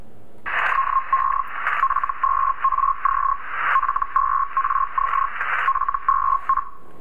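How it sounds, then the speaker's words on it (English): An on-off radio signal keys in short, crackly bursts like Morse code, a steady tone chopped into irregular pulses over a hissy band of static, fairly loud and alone with no voices. "Think of it like a crackly Morse code,"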